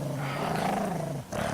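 A voice imitates a wounded creature growling and fighting during a tabletop fantasy role-play fight, a steady rough, strained growl held close and loud for over a second, briefly dipping before resuming.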